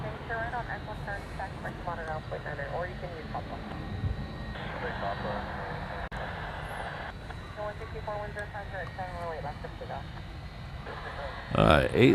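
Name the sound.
jet airliner taking off from runway 8 left, Honolulu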